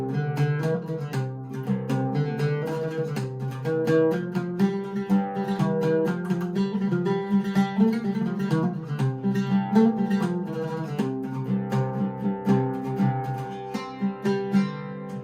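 A plucked string instrument picked with a plectrum plays the tune Frère Jacques using microtonal pitches, a steady melody with sustained resonant notes and no talking.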